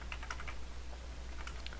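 Quick bursts of keyboard clacking while entering network configuration commands, a flurry of keystrokes, a short pause, then another brief run of typing, close and clear.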